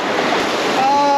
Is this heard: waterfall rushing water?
yes